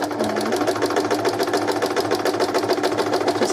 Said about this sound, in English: So press the foot down, needle down, and away we go.